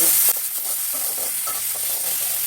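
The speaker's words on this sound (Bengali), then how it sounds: "এখন এই তেলের মধ্যে এই যে গোবিন্দভোগ চাল এটা দিয়েই আমি গন্ত করব তারপর ভেজে নিলেই মুড়ি হবে" Gobindobhog rice frying in oil in a wok, giving a bright, steady sizzle with soft stirring scrapes, close and clear after a brief louder burst at the start.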